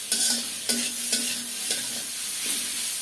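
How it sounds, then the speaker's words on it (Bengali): Pointed gourds (potol) frying in a pan, with a steady sizzle and a few sharp stirring scrapes spaced about half a second apart, close and alone with no voices. "পটলগুলো ভাজা হয়ে গেছে।"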